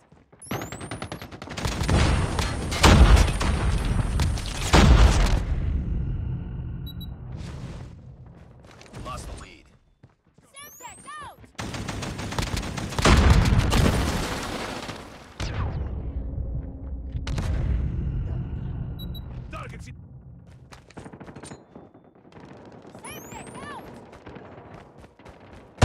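Video game gunfire from a hostile sentry gun: two long, loud automatic bursts, each lasting a few seconds and separated by a pause, followed by scattered shorter shots and clatter, with voices talking in between.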